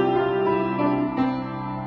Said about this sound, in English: We're going to start off with a gentle hum